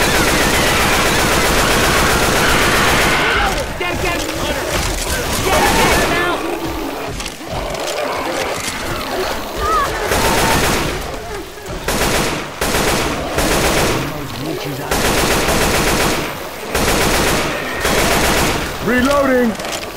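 Heavy gunfire in Left 4 Dead 2: loud, sustained automatic bursts and rattling shots pile up for long stretches, close and harsh, with players shouting over the shooting.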